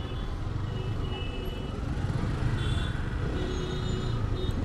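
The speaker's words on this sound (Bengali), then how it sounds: "সব টমটম, ইজি বাইক।" Street traffic in Sreemangal town along Habiganj Road, with battery tomtoms and easy bikes passing, forms a steady, dense rumble of engines and road noise with a few faint high horn or whine tones, no speech.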